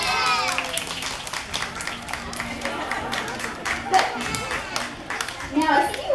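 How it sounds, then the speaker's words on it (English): Scattered clapping from a crowd of families, children's voices among them, rises at an outdoor sea lion show after Lily the sea lion dances, with distinct individual hand claps over light chatter and squeals. "Give her a big round of applause."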